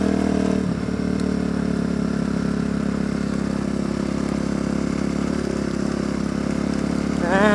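A Kawasaki KLX250 dirt bike, set up for track, rides through the desert in high gear with a steady, droning mid-pitched engine note and rushing wind, constant and close throughout, with no talk.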